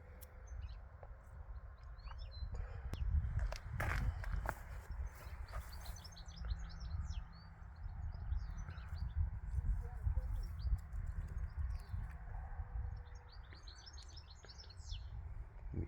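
Thrushes on a Scottish farm give scattered high chirps and short calls at a distance, over a low rumbling outdoor background with occasional thumps and a voice murmuring nearby.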